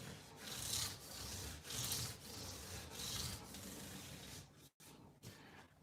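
Fine sandpaper rubbing back and forth across polished guitar frets on a new neck, producing a steady rhythmic swish in long strokes, close and fairly quiet, with a brief pause near the end and no talking.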